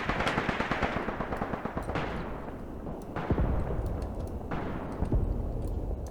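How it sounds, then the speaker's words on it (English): Sustained gunfire in the WWII tactical game Graviteam Tactics Mius, with dense rattling bursts and sharp louder reports at intervals, steady and fairly close throughout. "might as well shoot at the enemy, right?"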